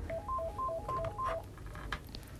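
A telephone handset being dialed by a switchboard operator in a ministerial office, a quick run of about eight evenly spaced keypad tones over faint room noise, followed by a soft handling clatter.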